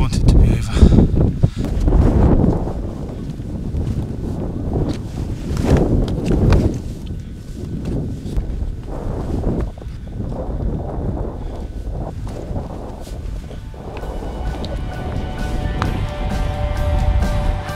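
Strong wind gusting across the exposed Crib Goch ridge near the summit of Snowdon on a sunny day, buffeting the microphone in loud continuous rumbling bursts throughout, with a voice speaking briefly at times.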